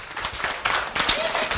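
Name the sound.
audience applauding a school performer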